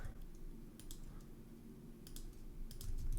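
Typing on a computer keyboard, short bursts of quick, close key clicks separated by brief pauses over a low background hum.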